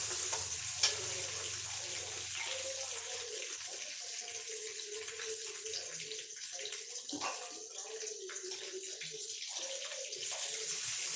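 Sliced onions cooking with salt in a pan for mint rice, a steady hissing sizzle with faint stirring movements, close and continuous without speech.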